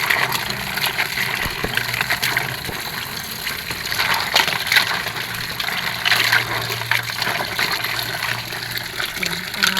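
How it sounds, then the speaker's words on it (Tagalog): Running water gushes and splashes steadily while children's toys are rinsed in a basin, a continuous broadband wash with brief clatters of toys shifting, loud and close throughout with no talk. "Banlawan na po natin sila."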